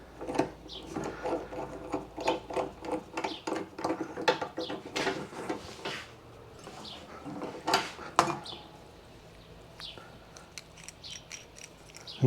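Sharp metallic clicks and rattles from a ratchet loosening a part on a 1980s-era Yamaha YJ2 Campus 60 scooter during a repair, coming in irregular close bursts, busiest in the first half and thinning out later.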